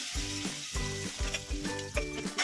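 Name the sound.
masala paste sizzling in hot ghee with black cumin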